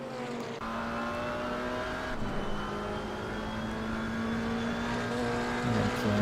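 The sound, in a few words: Maserati GT race car driving, from video game Assetto Corsa Competizione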